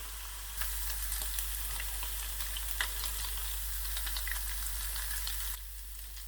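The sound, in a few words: garlic frying in a pan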